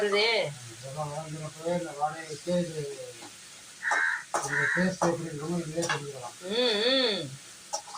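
Chicken thokku gravy sizzles in a pan while being stirred, a steady frying hiss running beneath a person talking almost continuously close by.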